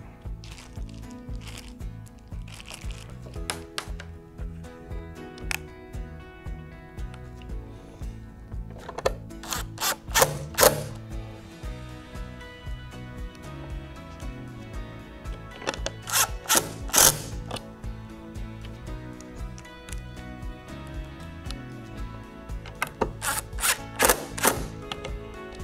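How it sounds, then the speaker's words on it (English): Small screws are driven by hand to fasten an air conditioner soft start onto a metal bracket, producing repeated close ratcheting clicks and scraping metallic ticks in intermittent clusters over a faint background hum. "using the four small screws provided, we'll attach the soft start to the metal bracket."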